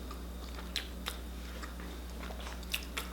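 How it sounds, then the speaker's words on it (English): Someone biting into and chewing vegan pizza up close, a few distinct crisp bites over a quiet steady background hum, soft mouth sounds between them. "I've had this pizza several times, so I'm not gonna act like it's my first time eating it."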